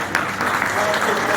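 Members at a society's annual general meeting clap together to approve the accounts, a brief, steady burst of close applause mixed with a voice talking over it.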